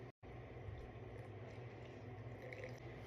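Sixty grams of warm, clean water is poured onto flour for a sourdough starter, a steady soft trickling splash heard close and alone after a brief silent gap, with no talking.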